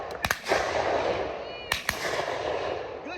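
Shotgun blasts while dove hunting, several sharp close reports in quick pairs over background field noise, with people talking.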